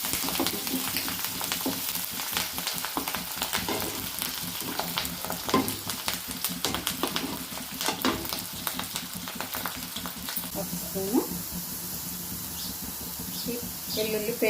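Onions and curry leaves frying and sizzling in a pan with ginger-garlic paste, a steady dense crackle throughout with occasional stirring scrapes, close and fairly loud.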